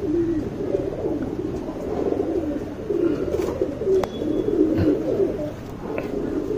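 A racing pigeon, a hen taken off her eggs, coos continuously and close by in low, rolling, throaty bursts, with no talk over it.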